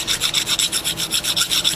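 A hand file rasps back and forth over the edges of a Chrysler 331 semi-hemi engine timing cover, about a dozen even, rhythmic strokes close up with no talk.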